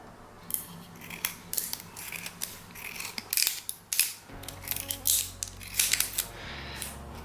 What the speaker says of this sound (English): just cut your straw right down the middle